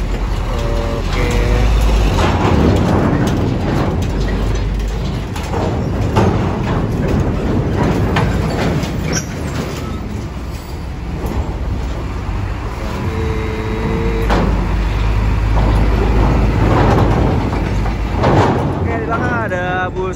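A Sabu Gunung bus at Merak port rumbles among other heavy vehicles amid busy traffic noise, with engine surges, hisses and honks. People talk throughout the scene.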